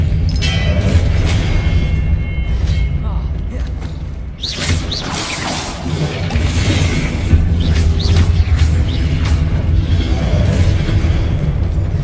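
Loud Expelliarmus spell effects crackle and boom in a Hogwarts Legacy duel, with dense magical bursts and a rumbling low end throughout.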